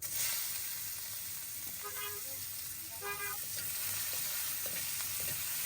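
Onion sizzles steadily in hot mustard oil with cumin seeds in a pan, a constant close hissing fry, while faint car horns toot in the distance.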